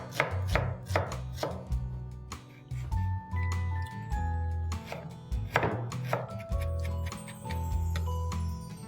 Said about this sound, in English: Onions are cut